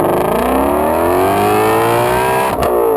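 A 2016 Shelby GT350's 5.2-liter Voodoo flat-plane-crank V8 revs hard and close, its rising tones climbing steadily over three seconds before a brief shift-like break.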